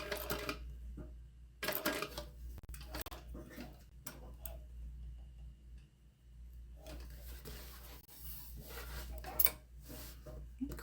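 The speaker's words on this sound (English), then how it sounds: "Put my needle right in that same hole and stitch up the side." A sewing machine stitching up the side of a tote runs in quick ticking bursts over a low steady hum, stopping and starting at close range with no talk.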